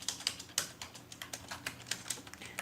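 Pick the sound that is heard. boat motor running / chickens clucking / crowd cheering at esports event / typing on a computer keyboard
typing on a computer keyboard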